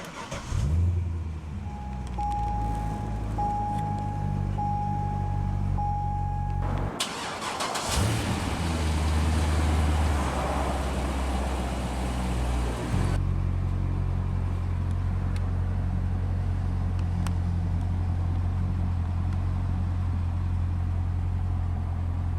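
A 2005 Chevrolet Corvette Z51 convertible with push-button start cranks with a brief whine, fires into a loud roar, then settles into a steady, deep idle close by.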